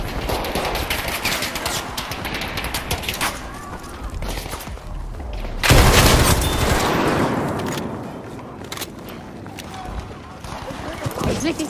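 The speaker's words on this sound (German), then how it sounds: "Ich werfe eine Granate." Gunfire and a grenade blast in Battlefield 5 conquest combat, dense continuous shooting with a heavier burst around the middle, loud and close, under a speaking voice.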